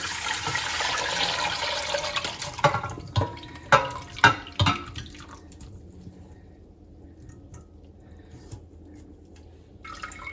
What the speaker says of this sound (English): I strain all that through the colander.